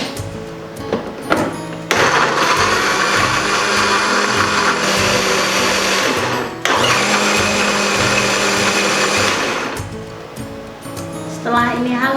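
An electric blender grinds turmeric, galangal, ginger, garlic and shallots for a spice paste in two long, loud, steady runs separated by a brief pause, with a voice at the edges.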